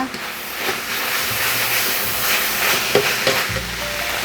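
Basil pork stir-fried with dark soy sauce in a wok, a steady loud sizzle and hiss with occasional scraping clinks of a spatula near the end.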